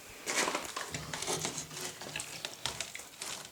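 A cat scratching at a floor inside a house under renovation, a dry papery crinkling and scraping in irregular bursts, fairly close and steady for several seconds with no talking.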